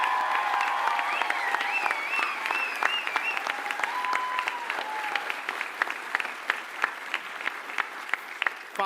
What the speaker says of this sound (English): Can everyone join me in a round of applause for our awesome faculty and staff?